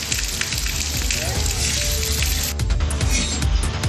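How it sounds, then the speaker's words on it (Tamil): Heavy rain pours down in a steady, dense hiss across Aruppukkottai in Virudhunagar district, loud and unbroken with scattered droplet impacts and faint background murmurs. "திடீரென கனமழை பெய்தது"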